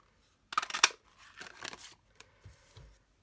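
Scissors cut out a paper label for a junk journal, making a quick burst of close, crisp snips followed by a few softer rustles of paper and light handling taps.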